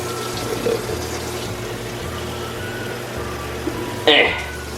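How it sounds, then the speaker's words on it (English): Water from a tap runs into a pan for taco meat in a home kitchen, a steady close pour that ends with a brief louder splash near the finish. "I'm about to put some water in this bit."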